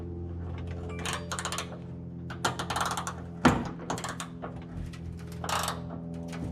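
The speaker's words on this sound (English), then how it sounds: "let's see if we can loosen up these bolts" A deep socket ratchet works on the gas tank bolts of a 1965 Ford Fairlane 500, giving several bursts of quick clicking separated by pauses, with a sharp clank near the middle, recorded close up without talking.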